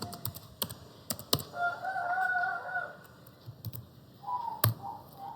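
Someone types code on a computer keyboard in Python in VS Code, producing scattered sharp key clicks in short bursts, while a rooster crows in the background.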